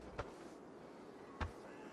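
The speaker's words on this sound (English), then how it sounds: "Even when you click that, you have a slow move sound effect," Slow-move footsteps in the Arena Breakout video game: two soft, muffled thuds about a second apart, quiet and isolated against a low background hiss.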